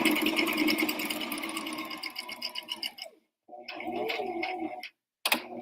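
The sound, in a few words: sewing machine stitching fabric for an apron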